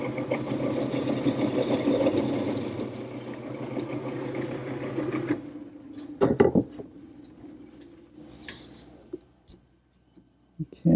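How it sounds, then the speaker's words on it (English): A gouge hollowing out a wooden bowl in a woodworking shop, a steady close scraping and rasping that stops after about five seconds, followed by a few scattered clunks and light knocks. "Now I'll grab my gouge once again and start to hollow it out."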